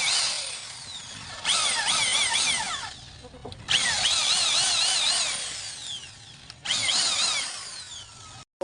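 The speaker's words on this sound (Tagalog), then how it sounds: "Tapos na ang barina, no?" A power drill boring out a stuck, rusted bolt on a Corolla 2E 12-valve engine: three long, loud whining runs with rising and falling pitch, separated by brief pauses.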